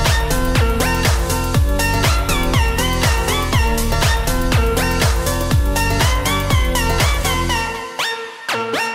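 An electronic music track made in FL Studio plays loud and alone: punchy kick drums on a steady beat under layered synth chords, with notes that slide from pitch to pitch, until it cuts off near the end.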